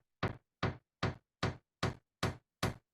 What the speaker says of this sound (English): So here's the door again.